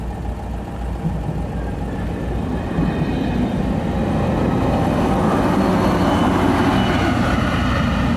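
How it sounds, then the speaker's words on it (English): A train rumbles past at a railway crossing somewhere in Hungary, a heavy low drone that swells steadily louder and broader over several seconds, close by and unbroken, with no voices. "That was a pretty funky train."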